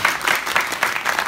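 An audience at a film stage greeting claps for the actor Geon-woo, a short stretch of fairly close applause with a loose, pulsing rhythm.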